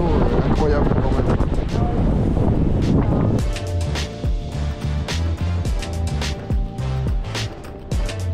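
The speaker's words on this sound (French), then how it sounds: "Je sais même pas si vous m'entendez parce que y a du vent de ouf" Strong wind roars and buffets the microphone on a whale-watching boat trip in Iceland for several seconds, then eases. Choppy, rhythmic sounds and voices follow.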